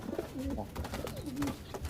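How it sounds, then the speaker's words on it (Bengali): A big male pigeon, a Madras-type loft bird, coos repeatedly up close, a low throaty rolling call with rising and falling phrases, handled by someone in an indoor loft. "পায়রা ধরে তোমরা নটার কেমন ডাক দেখো"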